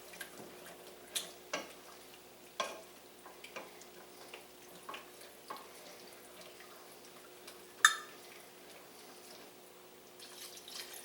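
A spoon stirs and scrapes chicken stroganoff sauce in a pan, making soft, irregular clicks and scrapes over a quiet, faint sizzle.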